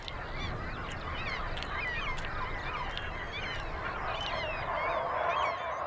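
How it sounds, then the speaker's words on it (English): A flock of geese honks continuously, many calls overlapping in a noisy, sustained chorus close by. "the geese are in competition for the grass with the sheep"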